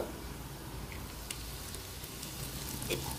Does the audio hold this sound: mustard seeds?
yes